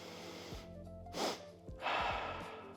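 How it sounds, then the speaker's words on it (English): A deep breathing exercise: a sharp nasal intake of breath followed by a longer, audible exhale, close and quiet, with a second breath at the end. "Take one deep inhalation through your nose."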